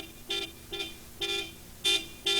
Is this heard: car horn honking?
yes